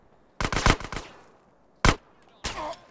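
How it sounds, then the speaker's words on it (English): Gunfire in Grand Theft Auto San Andreas, a rapid cluster of loud shots followed by two separate single blasts, sharp and close with brief gaps between. "Hell, that was a sniper bullet."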